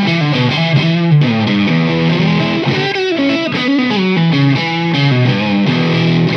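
Electric guitar through P90 pickups with a raunchy, distorted tone, played loud and continuous with chugging low notes and ringing chords, alone with no talking.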